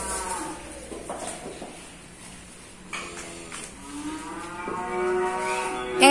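Limousin cattle moo at a cattle market, with several drawn-out lowing calls at moderate distance over a murmur of background activity.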